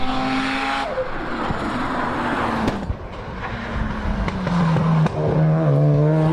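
Mazda RX-7 rotary race car with a big rear fin at a lakeside hillclimb, its loud high-pitched engine note rising and falling through gear changes, fading briefly before surging again close by.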